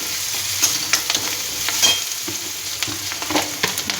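Onions and green chillies frying with turmeric while being stirred, a constant close sizzle broken by sharp scraping spoon strokes, with no voices.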